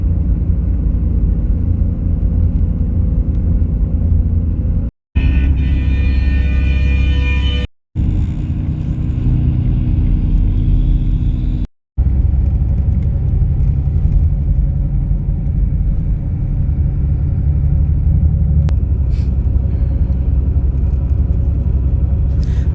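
Cabin of a KSRTC Ambaari Utsav Volvo 9600S coach running from Bangalore to Chennai: a steady low engine drone and road rumble with tire whir throughout, cut by a few brief breaks, with no voices.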